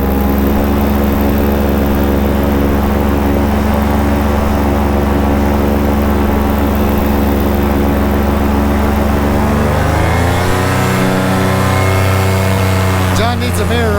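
Paramotor engine running near and loud with a smooth, steady drone that shifts pitch as the throttle rolls off slowly around the ten-second mark, ending with brief rattles.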